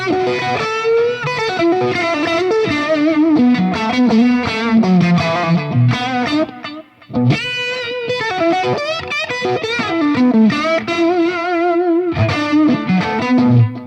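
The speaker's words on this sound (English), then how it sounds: "So we've got a Univibe going, a tape echo, and a large plate reverb." Fender Tone Master Pro digital modeler playing Hendrix-style electric guitar through a Univibe, tape echo, large plate reverb and octave fuzz; a loud, continuous distorted lead with swirling modulation and echo tails, briefly thinning out midway before surging back.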